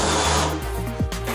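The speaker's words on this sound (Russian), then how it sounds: "потом зенкером" A countersink bit on a power drill cuts into 40×40 and 60×40 wooden bars being joined for a bed frame: a continuous loud motor whine that dips and shifts pitch, with a short sweep near the end.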